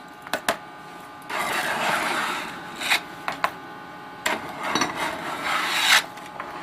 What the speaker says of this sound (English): Scrape it all in there.